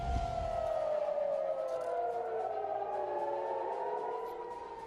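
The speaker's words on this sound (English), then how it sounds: "Those are the sirens going off in Israel." Air raid sirens wailing across Israel, several overlapping tones sliding slowly up and down, steady and somewhat distant, with no voices over them.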